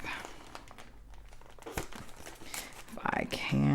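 Crinkly plastic packaging around a set of Christmas diamond-painting gift tags is pulled open by hand, with rustling and crackling that builds toward the end while a person talks.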